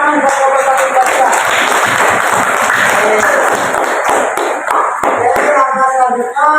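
Classroom audience giving a group of students a round of applause, dense close clapping and some cheering filling the room for several seconds, with voices mixed in.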